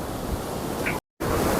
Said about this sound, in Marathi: भीमा नदी मात्र पूर्ण खवळलेला दिसतोय।